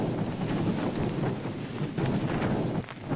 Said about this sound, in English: We think the gusts have been about probably 40 miles an hour, and it's pretty intense, to say the least.